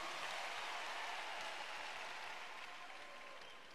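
A congregation claps together during a church valedictory service, a steady wash of applause that slowly tapers off near the end.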